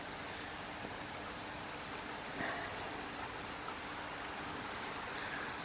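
A river roughly 25 to 30 feet wide flows over rocks beneath overhanging trees, a faint, steady babble with a few soft bird calls on top.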